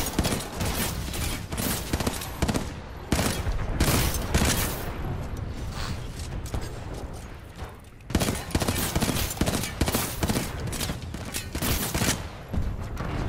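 Dense, continuous gunfire fills a Titanfall 2 match, with rapid automatic bursts and heavy shots close and loud nearly throughout, pausing only briefly midway.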